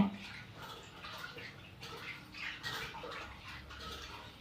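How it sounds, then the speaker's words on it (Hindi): Lentils are rinsed by hand in a vessel of water at home, soft swishing and gentle sloshing close by, faint and continuous. "दाल को धो लेती हूँ"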